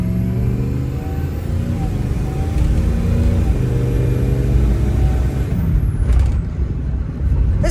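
A 2003 Ford F350 Powerstroke diesel dually pickup drives on a road, heard from inside as a loud, steady low engine drone with rumbling road noise and a brief air-brake-like hiss near the end.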